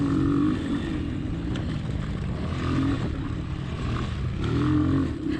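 A motorcycle engine drones steadily while the bike rides through corners, a loud, close, continuous rumble that swells and eases slightly, with no one talking.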